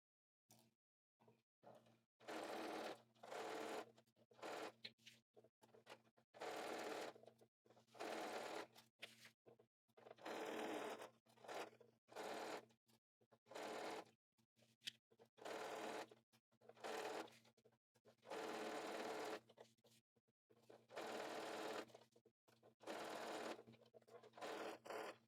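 Sewing machine stitching a facing onto a skirt seam, running in short bursts of rapid whirring broken by frequent brief pauses, close and clear.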